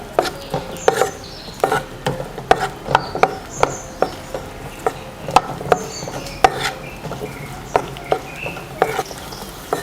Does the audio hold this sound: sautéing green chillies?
yes